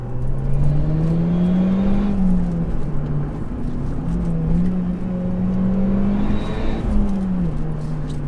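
Audi A1 Quattro engine heard up close and loud, with a steady whirring drone that rises and falls in pitch as it revs, with no talking.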